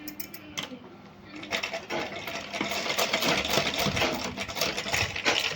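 A sewing machine stitches close by, its fast, steady mechanical rattle running continuously, briefly slowing before picking back up at full speed.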